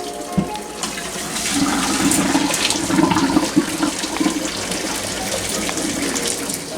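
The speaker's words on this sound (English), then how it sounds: "And we're going to empty the water out of here." Boiling water is poured out of a pot of boiled eggs into a sink, a loud continuous gushing splash lasting several seconds with no talking over it.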